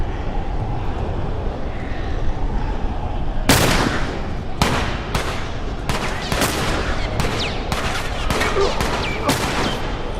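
Loud gunshots from The Last of Us Remastered ring out over a low ambient rumble, one sharp blast followed by a series of irregularly spaced shots.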